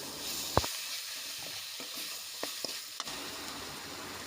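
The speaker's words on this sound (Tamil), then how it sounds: "பாருங்கள், நல்லா கிளறி விட்டாச்சு." Drumstick leaf stir-fry with grated coconut is stirred in a pan, giving a soft, low sizzle broken by a few sharp scraping knocks of the spoon, close and fairly quiet.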